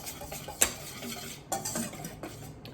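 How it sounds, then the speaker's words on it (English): A whisk scrapes and clinks against a bowl as dry cocoa powder, cornstarch, salt and cinnamon are mixed, giving a few sharp metallic taps among softer stirring sounds, close up, with no talking. "Just whisk it together to combine."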